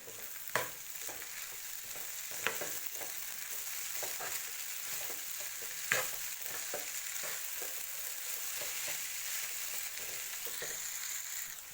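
Poha stirred in a pan with lemon juice and sugar, a soft steady sizzle with occasional scraping knocks from the spoon, fairly faint and with no talking.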